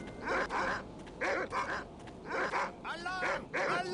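Dogs in the stealth video game No One Lives Forever bark in repeated, rhythmic bursts, several sharp, close barks in quick clusters with brief gaps between them.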